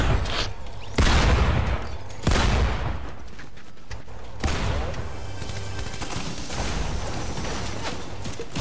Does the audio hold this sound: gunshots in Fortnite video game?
yes